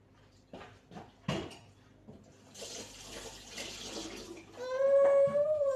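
Water from a tap runs and splashes into a container as a drink is filled for a pet, building to a steady gushing stream with a rising tone near the end.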